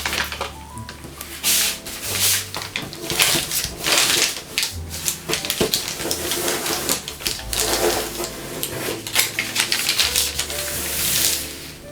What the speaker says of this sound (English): It's a little easier to add a crease that way.